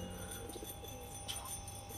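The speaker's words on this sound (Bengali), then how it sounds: "দেখতে পাচ্ছেন সুন্দর এক পেয়ার চটিয়াল পায়রা আছে" Soft cooing of chatiyal pigeons amid low noise at the Garia pigeon market, quiet and close, a few murmuring coos over a steady hum.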